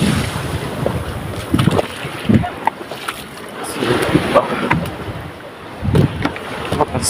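Strong sea waves surge and slap around a small boat crossing toward Batbatan Island, with heavy wind buffeting the microphone and periodic louder swells over a constant rushing roar.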